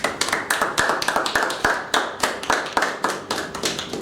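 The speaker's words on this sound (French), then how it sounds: "nous vous présentons nos sincères félicitations et nos applaudissements mérités" Audience at a diploma celebration clapping in rhythmic, evenly spaced bursts, sharp close hand claps repeating about three times a second, loud and alone.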